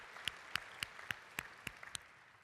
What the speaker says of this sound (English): let's give them a round of applause for making this contribution